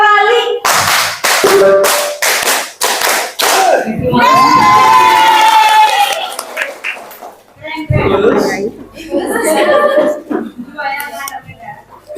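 Participants in a positive-culture dissemination session join in a clapping rhythm game, sharp claps in counted bursts that quicken into rapid sequences, alternating with a leader's voice calling counts and others responding.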